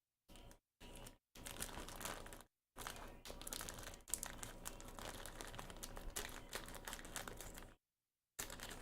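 Plastic packaging from a model kit crinkles and rustles in bursts, close and continuous, with brief pauses of silence between handlings.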